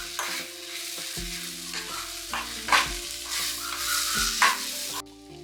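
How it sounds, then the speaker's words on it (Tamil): Chopped onion and tomato sauté in a pan for a tamarind curry made with fresh turkey berries, with a continuous soft sizzle broken by scraping stirs. Faint background music plays underneath, and nobody speaks. "இந்த வெங்காயம் தக்காளி வதங்கினது போதுங்க."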